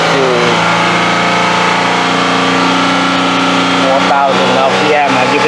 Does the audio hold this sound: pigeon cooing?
no